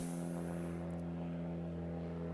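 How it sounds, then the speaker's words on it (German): An airplane passes over a forest with a steady, droning engine rumble and strong tonal hum, loud and continuous throughout. "hier fliegt ein, ein Flieger nach dem anderen über den Wald drüber"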